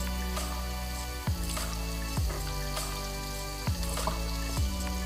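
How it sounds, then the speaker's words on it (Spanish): Mushrooms sizzling in hot olive oil in a deep pan: a continuous crackling fry with frequent pops and spits, steady and close, no talking. "Esperaremos hasta que esté bien caliente y agregaremos nuestros champiñones."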